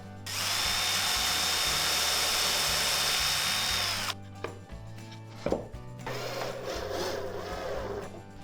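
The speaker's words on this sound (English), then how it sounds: "I will pre-drill from underneath as well" A power drill whirs steadily for about four seconds while pre-drilling wood, then stops, followed by a few clicks and rustling handling noises.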